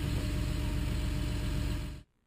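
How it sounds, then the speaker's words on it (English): A John Deere crawler dozer's diesel engine holds a steady low idle, a continuous close rumble for about two seconds before cutting off abruptly into silence. "Slow the engine to low idle before stopping the engine."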